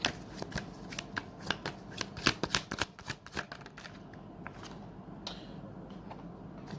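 Tarot cards are shuffled up close in a rapid flurry of crisp riffling slaps and flicks that thin out and fade into quiet room tone, with no voices.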